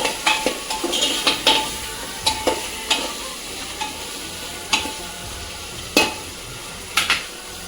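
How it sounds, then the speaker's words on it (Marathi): A spoon scrapes and knocks against a pot while vegetable pulao is stirred, a series of sharp separate clinks over a faint sizzle, close and without speech. "ह्याला छान मिक्स करून घेऊया।"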